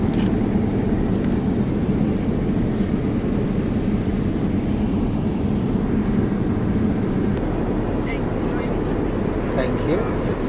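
A Japan Airlines Boeing 787 in flight, heard from the cabin beside the wing: a steady, loud, low engine and airflow roar, constant throughout, with faint cabin sounds in the background.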